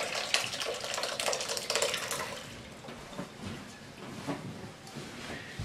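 Liquid from making ricotta cheese pours through a towel strainer, splashing steadily for a few seconds, then thins to softer trickles and drips close by.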